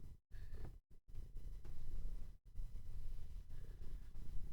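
A cat sitting on a computer keyboard purrs softly and steadily up close, a low rumbling texture broken by a few brief gaps, with no talking.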